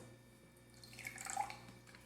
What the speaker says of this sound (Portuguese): Agora no copo de número 5, irei adicionar a mesma quantidade de água sanitária.